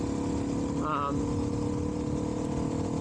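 A Suzuki DRZ400SM motorcycle with a 12-tooth sprocket idles nearby with a steady, rumbling drone, while someone talks over it.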